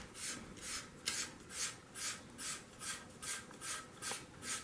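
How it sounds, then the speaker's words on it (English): Hand scraper drawn repeatedly along a wooden gun stock, about ten evenly spaced raspy strokes in a steady rhythm, close and fairly quiet with no talking. "I'm scraping the whole gun"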